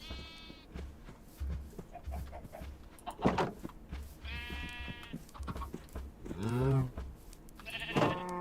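A longhorn cow in modded Minecraft gives several drawn-out, bleating moos at intervals, with other farm-animal calls and game sounds around them.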